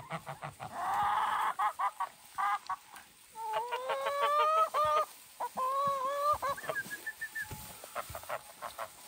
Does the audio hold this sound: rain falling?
no